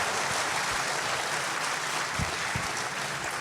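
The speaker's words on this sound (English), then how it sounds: "let's give Amel a round of applause" Sustained audience applause fills a live show recording at a Youngstown mob talk event, a dense, steady wash of clapping from a crowd without any voices over it.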